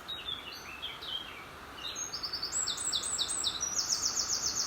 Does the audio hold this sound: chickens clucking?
no